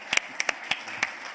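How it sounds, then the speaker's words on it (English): A small audience claps sparsely for a moment, a handful of separate, fairly faint claps with irregular spacing rather than full applause. "You can clap."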